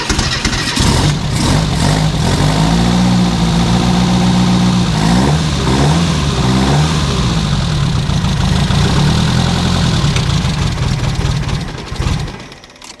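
A Renault R8 Gordini engine cranks over, catches and settles into a loud, steady idle with some throttle surges and uneven running, then cuts off near the end.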